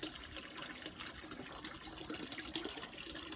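Rainwater running off a roof into a garden pond, a faint, continuous splashing and trickling rush with no talking.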